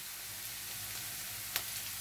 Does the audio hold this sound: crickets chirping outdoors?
no